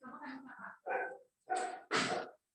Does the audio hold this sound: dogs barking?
yes